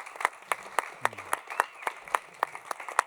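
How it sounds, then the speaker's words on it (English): Conference audience at RenderCon 2026 clapping, a steady run of sharp, separate hand claps at a moderate distance, fairly sparse and even in rhythm over about three seconds, with faint background murmur. "You want to clap? Yeah, go for it."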